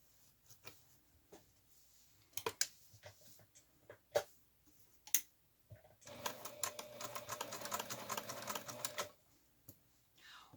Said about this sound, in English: all I'm going to do is stitch around here like this.